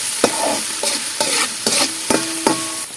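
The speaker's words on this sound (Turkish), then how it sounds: "Karıştırarak biberleri güzel bir kavuruyoruz." Peppers are stirred and fried in a pan, with a steady sizzle broken by repeated scraping strokes of a utensil at a regular pace, close and clear with no talking.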